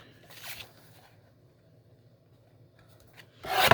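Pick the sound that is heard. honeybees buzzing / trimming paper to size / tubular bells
trimming paper to size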